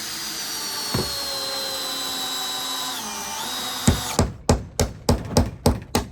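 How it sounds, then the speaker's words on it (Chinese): An electric drill whines steadily while building a woodshed for a rural elders' home, then pulses in a run of about eight short, sharp bursts as it drives into wood, close and fairly loud. "比用这个锤子牢固一点，只有1把电钻"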